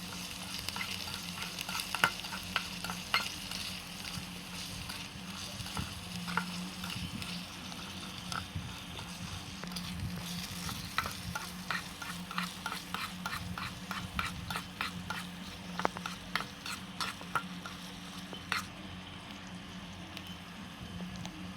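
Spice masala of turmeric, chili powder, salt and cumin sizzles steadily in a pan for shrimp bhuna, with frequent scraping clicks as it is stirred, fairly quiet and continuous.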